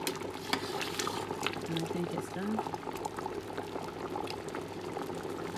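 Soup with dumplings and potatoes bubbling in a pot, a soft steady simmer of small pops and gurgles close by, heard under a woman's brief speech.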